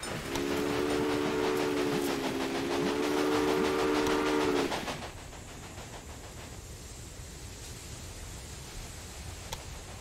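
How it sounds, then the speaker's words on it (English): A steam train whistle blows in a steady sustained chord for a few seconds in the Railway Empire video game, then cuts off and leaves a quieter rolling rumble of the train running on the rails. "Your train is now traveling between Omaha and Norfolk."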